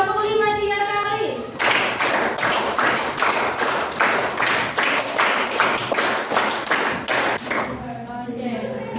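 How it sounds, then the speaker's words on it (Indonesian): A class of students claps together in a rhythmic pattern, a run of loud, evenly spaced group claps with short gaps, sounding close by in a classroom, with talk just before and after. "Oke, tepuk 5 3 kali."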